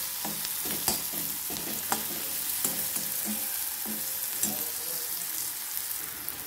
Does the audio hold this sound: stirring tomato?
yes